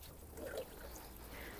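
Water pours and trickles softly onto the soil around a newly planted large camellia in a February garden, a faint, steady splash lasting a moment with no talking.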